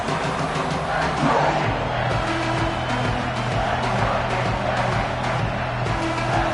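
A stadium crowd roars continuously in a football video game, a steady, dense wall of cheering held at an even level throughout.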